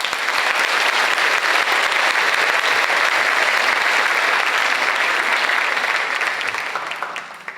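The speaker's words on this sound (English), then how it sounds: "You deserve a round of applause for that." Loud, dense applause from an audience at a high school graduation ceremony, a steady wash of clapping that holds strongly before fading away near the end.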